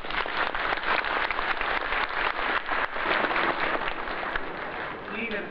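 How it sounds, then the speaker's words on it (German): Steady applause from an outdoor crowd at a Sunday service on a fairground festival site in Pützchens Markt, clapping for musicians and singers, dense and sustained throughout. "wenn wir jetzt unseren Musikern und Sängern einen herzlichen Beifall schenken"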